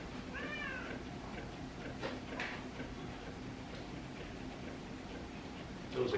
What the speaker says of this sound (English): There was a cat last episode too.